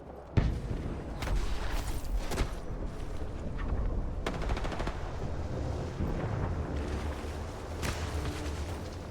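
Gunfire in the video game Apex Legends, with repeated rapid bursts and single sharp shots over a continuous rumble of battle noise, loud and dense throughout.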